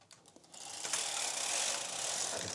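A knitting machine carriage is pushed across a row, starting as a few light clicks and building into a steady, close mechanical rasping and whirring that holds to the end.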